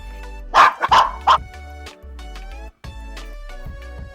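Several small pet dogs barking and yipping close by, a few loud sharp barks early, then softer whines against a musical backdrop.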